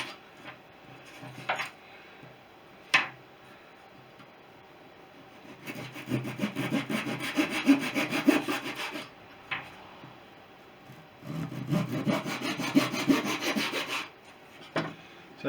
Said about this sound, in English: So just with a razor saw, straightforward cuts.